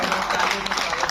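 A brief burst of audience applause at a Hindi poetry gathering held in memory of a local figure, dense hand clapping under a speaking voice.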